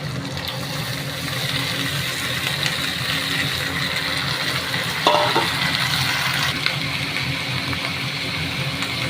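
Chopped onion stalks hit a hot pan and sizzle with a steady, broad hiss that carries on evenly throughout, with a few brief clinks of utensils partway through and no voices.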